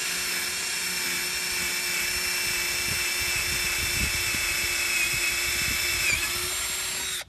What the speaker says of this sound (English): We're stepping it all the way up to 3/8, so let's see how this will do without a pilot hole.